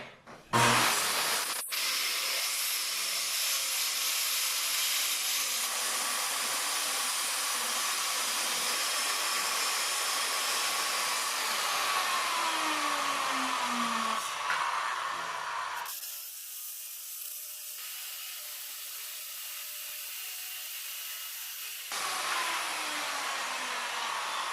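Circular saw fitted with a 60-tooth Prod blade cutting scrap plywood at a 90-degree setting: a loud, steady whining rip that runs continuously for over twenty seconds, dipping briefly in pitch near the end before rising again.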